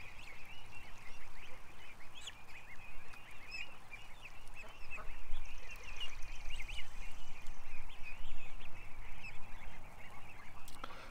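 Ducks and geese honk and quack continuously at close range in a noisy flock, calls overlapping with a rustling, shuffling background throughout.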